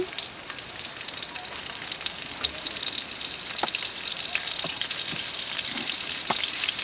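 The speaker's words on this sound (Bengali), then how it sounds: "এতে পরিমাণ মতো সোয়াবিন তেল দিয়ে দিলাম এখন দিয়ে দিলাম পেঁয়াজ কুচি" Chopped onions fry in hot soybean oil in a pan, a dense, continuous crackling sizzle that builds slightly louder, with scattered sharp pops and faint stirring.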